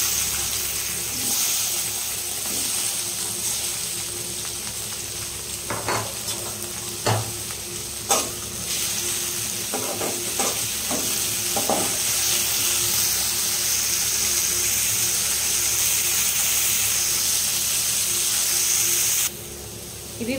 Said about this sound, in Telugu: ఇందులోకి ఇంకొంచెం ఆయిల్ వేసుకొని టమాటా పచ్చిమిర్చి కూడా వేయించేసుకుందాము